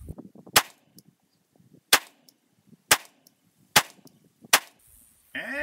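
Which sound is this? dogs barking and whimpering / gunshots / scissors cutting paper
gunshots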